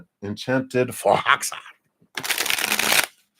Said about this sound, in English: So let's give those a shuffle,